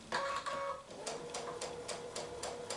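A sewing machine with a regular presser foot stitches a quilt block, its needle whirring and pulsing in a steady rhythmic chatter close by.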